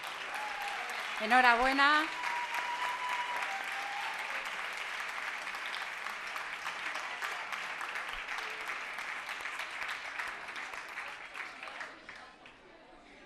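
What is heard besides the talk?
applause at a gala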